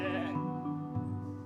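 A single sheep bleats in a long, wavering, quavering call that holds for over a second at moderate loudness, with no voices.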